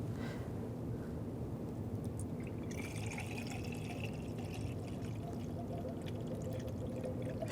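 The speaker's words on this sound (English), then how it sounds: "Take the cap off the coolant reservoir. You want to add the appropriate coolant." Coolant poured into the reservoir of a 2013-2016 Dodge Dart 2.4L four-cylinder, a steady close liquid pour and trickle running continuously under a low hum, with no talking.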